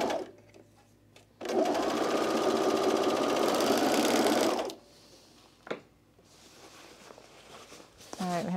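A sewing machine stitches a seam on a pair of Peaks and Valley pants, a loud continuous whirring burst of about three seconds followed by quieter handling sounds and a brief restart.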